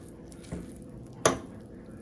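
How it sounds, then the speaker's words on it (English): Spoon or utensil fluffing freshly cooked yellow rice in a pot; soft, quiet scraping with a few light knocks against the pot, the sharpest near the middle, with no other sound. "So now I'm just gonna fluff the rice a little bit."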